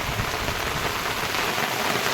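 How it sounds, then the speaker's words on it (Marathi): Heavy rain pouring down in a village during Diwali, a dense, continuous hiss of falling water close by and loud, with no voices. "मुसळधार पाऊस पडतोय गावाला"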